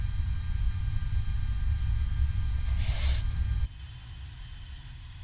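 Cockpit of a JARDesign A330 airliner in X-Plane 10 at shutdown: a steady low engine rumble and hiss, a brief bright whoosh near the end, then the rumble drops abruptly to a quieter hum as the engines cut out.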